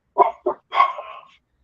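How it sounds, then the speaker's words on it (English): Dogs bark indoors as someone walks in the door: three close, loud barks, two short ones and then a longer one, followed by silence. "walked in the door and the dogs bark"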